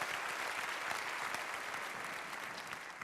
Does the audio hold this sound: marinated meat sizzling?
no